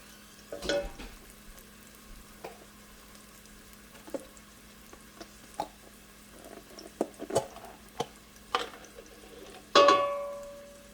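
Chopped onions fry in grass-fed butter in a pan, a soft steady sizzle running throughout with scattered spoon clinks and stirring taps, one sharp metallic knock near the end.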